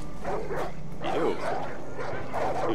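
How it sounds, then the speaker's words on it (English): A big dog in the video game Far Cry 5 gives several close, loud barks in a rough rhythm over a low background rumble. "That's a big dog."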